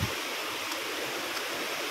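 A small stream rushes in a steady, even wash of flowing water, close and constant, with no voices over it.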